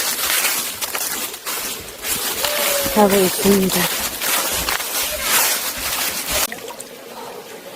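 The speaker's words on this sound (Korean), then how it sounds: "계곡 물소리를 들으며" A mountain valley stream in Juwangsan National Park, South Korea, flows steadily in the background while a person talks over it, the water rushing continuously throughout.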